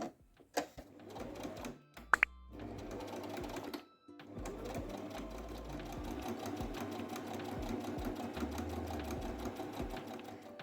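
A sewing machine stitches a tote bag, opening with a few short bursts and handling knocks, then settling into a long, steady, rapid run that is close and fairly loud.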